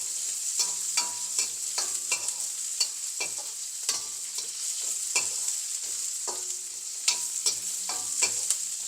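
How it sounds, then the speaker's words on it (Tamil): Onion and garlic fry in a pan for a spicy vegetable gravy. A quiet, continuous sizzle is punctuated by regular spatula scrapes and taps from stirring. "வெங்காயம் பூண்டு இதெல்லாம் கொஞ்சம் பொரியட்டும்."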